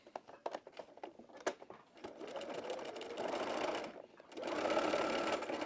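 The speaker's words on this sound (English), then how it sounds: "we're going to sew from this edge to that circle again" A sewing machine stitches a seam on a wrap dress in bursts: short taps, then two longer steady runs of rapid whirring stitching, close and clear without talk.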